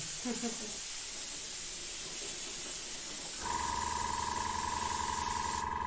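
An airbrush running with no paint loaded blows a steady hiss of air to dry paint on a waterfall diorama, holding continuously from about three and a half seconds with a sustained tone beneath it, after softer noise at the start.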